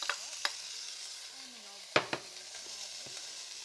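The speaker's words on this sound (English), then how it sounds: "We want to keep continually stirring the onion, the garlic and the mince until the mince is brown." Five hundred grams of mince, garlic and onion fry in a pan while being stirred, a faint low sizzle dotted with a few sharp spatula clacks against the pan, close and quiet, with no voice.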